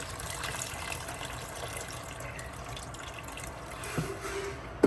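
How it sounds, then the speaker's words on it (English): Water pours steadily into a pot of Guyanese dal being cooked for kitree, a continuous close splashing gush with a small clink near the end and no talking. "I'm gonna go ahead and add some water."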